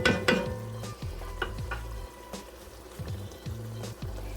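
Chicken, shrimp and andouille sausage jambalaya sizzles steadily in the pot while a spoon scrapes and stirs it in repeated strokes, with no talking.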